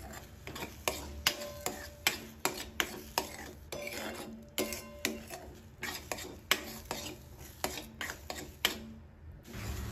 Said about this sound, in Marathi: आता हे जे सर्व मिश्रण आहे हे छान मी मिक्स करून घेणार आहे